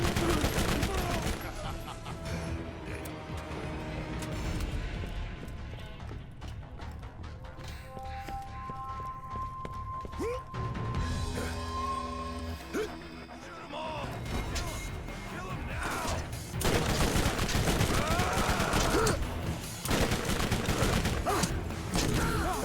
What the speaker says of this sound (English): Let's give this SMG a whirl.